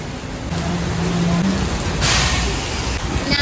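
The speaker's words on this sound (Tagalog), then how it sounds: "It's raining na!" Heavy rain pours down during a storm at a street-side pares food stall, a steady wash of noise that swells louder midway, with people talking over it.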